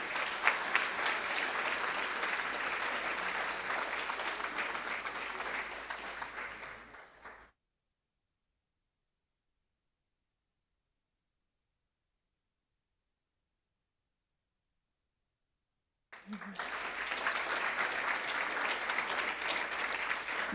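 Applause at a school board meeting for students honored for excellence, a dense steady clapping from the room that cuts off abruptly, leaves a long silence, then resumes just as full.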